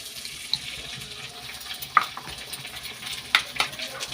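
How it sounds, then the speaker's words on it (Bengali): Egg poured into a wok of frying onion and chilli and stirred for chowmein, with a soft sizzle and a few sharp metal clinks of the spatula. "ডিম ঢেলে দিলাম তারপর নাড়ালাম"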